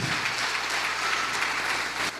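A congregation applauds during a church sermon, a loud, dense, continuous wash of many hands clapping together that holds steady before tapering slightly at the very end.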